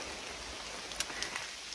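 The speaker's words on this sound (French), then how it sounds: "donc il pleut, c'est une bonne chose" Steady rain falls in a Sumatran rainforest near an orangutan nest, a dense, even hiss of drops with a few slightly louder individual splashes, heard alone without voices.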